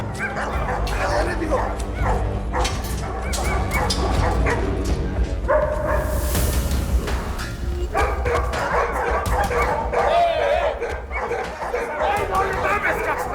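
A dog barks and yips repeatedly, close and agitated, with whimpers mixed in, while several people shout and talk over it throughout.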